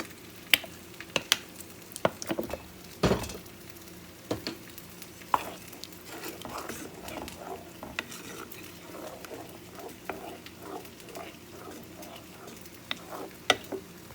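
Pomegranate sauce hitting a hot pan of stuffed potatoes with vegetables and rice, a soft steady sizzle with scattered clinks and stirring scrapes, several sharp utensil taps near the start and end, no talking.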